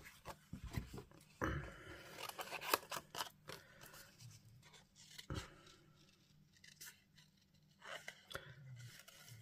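Scissors fussy-cut a small paper dragonfly for a card, giving quiet, close, irregular snips with paper rustling between them.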